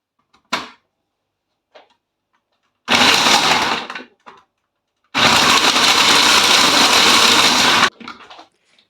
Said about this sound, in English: I'm going to grate one whole bar of the Sunlight soap